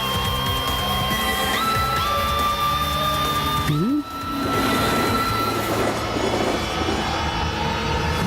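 A train running on rails, a steady loud rumble with tonal whines that bend and drop midway before the clatter continues.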